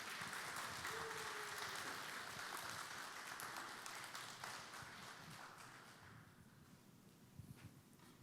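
An audience at a worship talk concert claps to welcome a pastor onto the stage, a broad wash of applause that starts full and gradually thins and fades, with a few scattered louder claps near the end.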